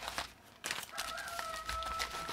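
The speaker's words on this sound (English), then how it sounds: "that's a different rooster." A rooster crows in the background, a thin sustained call rising over about a second and a half amid steady outdoor noise, fairly faint and alone with no talk.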